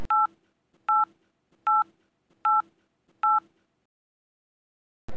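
A telephone keypad beeps five times, evenly spaced dialing tones about a second apart, clear and close in otherwise quiet surroundings, followed by a brief cut at the end.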